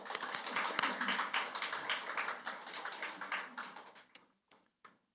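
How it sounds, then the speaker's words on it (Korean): Congregation applauding in a church after a worship song, dense clapping sustained for about four seconds, then tapering into a few scattered final claps. "우리 박수를 한 번 더."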